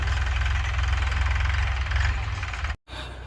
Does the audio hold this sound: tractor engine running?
yes